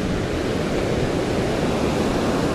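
Loud, steady roar of storm surf breaking right up against the walls of a washed-out beach in Alanya, Turkey, a dense continuous wash of crashing water close to the listener with no pauses.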